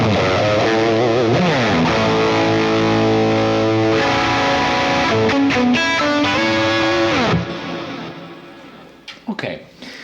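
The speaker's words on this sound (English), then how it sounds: "I can decide to have more delay and a higher mix of reverb, modify my gain treble on the overdrive." Electric guitar through a Quad Cortex with overdrive, delay and reverb, loud distorted sustained notes and chords ringing with echo, then cutting off to quieter trailing reverb and faint handling noise.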